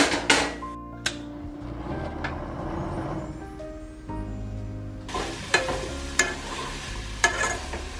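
Apples with cinnamon and sugar cooking in a pan on a stovetop at medium-low heat, with a gentle bubbling hiss, a few sharp clanks and knocks, and a louder sizzle toward the end.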